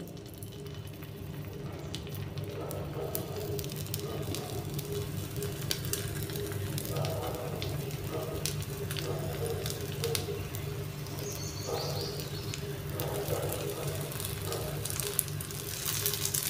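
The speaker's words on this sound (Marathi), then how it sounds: "आपण याला शॅलो फ्राय करून घेऊयात. इथे मी बिडाचा तवा ठेवलेला आहे. याच्यावर तेल घातलेलं आहे." Broccoli tikkis shallow frying in oil on a cast-iron tawa give a steady, continuous sizzle with faint crackles throughout, close and even in level, with no talking.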